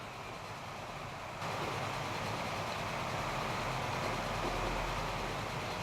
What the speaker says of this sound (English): Let's have a quick look at our passenger train.